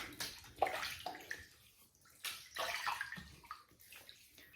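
Water splashing in quick bursts as a man wets his face at a sink before shaving with lather in a Lancaster Razor Works bowl; close, irregular splashes and drips with short pauses.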